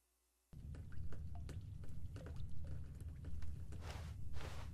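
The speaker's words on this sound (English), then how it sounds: "Oh, there's water dripping right here." Water drips in The Stanley Parable: Ultra Deluxe, a run of small, close drops with an irregular rhythm that starts abruptly after a moment of silence and continues over a low steady room hum.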